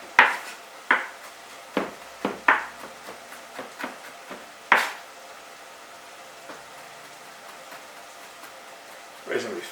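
A knife dices boiled potatoes on a cutting board, a series of close, sharp chopping taps in an uneven rhythm that stops for a few seconds before another cut at the end.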